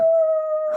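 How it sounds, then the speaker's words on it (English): A single howl sounds in the distance, a clear, sustained, even tone lasting under a second. "As you hear a howl in the distance."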